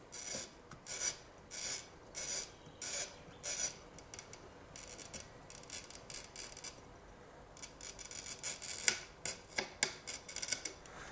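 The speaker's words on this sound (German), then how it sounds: "Schneiden wir mal die Flasche." Glass bottle cutter scoring a wine bottle, giving a close, rasping scratch repeated in regular strokes, then a faster run of shorter scrapes, with no voices.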